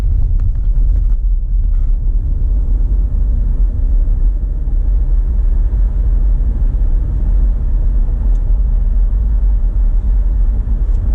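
Car rolling along a bumpy stretch of 23 Mile Road, its cabin filled with a loud, steady low rumble of tires and engine, punctuated by occasional small knocks from road bumps, with no talking.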